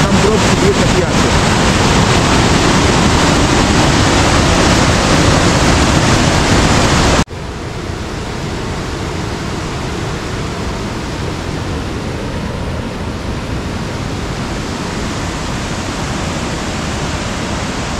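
Bhatinda waterfall in Dhanbad swollen with monsoon water, a loud, unbroken roar of rushing water heard close up, dropping abruptly partway through to a somewhat quieter but still constant rushing.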